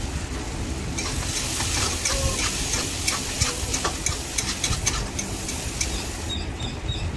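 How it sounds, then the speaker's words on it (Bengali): Salted onions fry in a pan as the base for a pomfret fish curry, making a loud continuous sizzle with frequent light ticks of stirring throughout. "পেঁয়াজগুলো ভালো করে ভাজা হয়ে গেছে"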